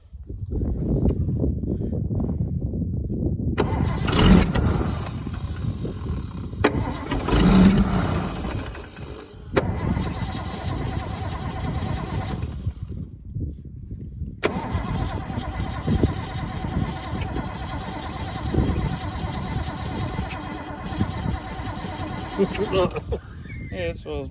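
Holden FC Grey Motor being cranked for its first start in 50 years, the starter churning in repeated bursts with brief pauses between, close and loud, while people talk over it.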